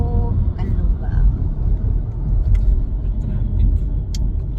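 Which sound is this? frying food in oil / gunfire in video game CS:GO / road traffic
road traffic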